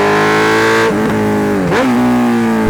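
A 2016 Honda CB 650F with an 87-horsepower inline four-cylinder engine revs loud and close, holding a steady high drone, dipping briefly twice and climbing back, with no voices over it.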